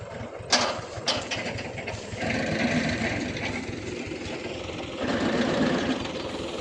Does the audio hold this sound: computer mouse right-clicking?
no